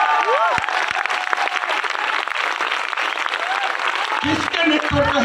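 An audience claps loudly and continuously for about five seconds. A few voices and brief tonal sounds rise over the thick applause near the start and end.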